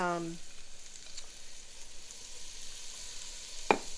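Leeks, scallions and garlic sizzle in a pan for chicken soup with escarole, making a soft, steady frying hiss at low volume, with a single short knock near the end.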